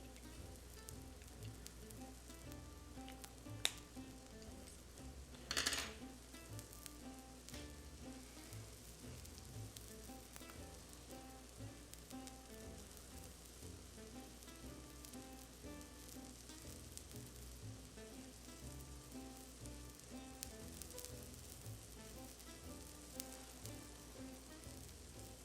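A Beyond Burger patty sizzles softly in a pan in a steady, faint crackle, with a couple of sharp clicks or taps near the start. No speech is heard.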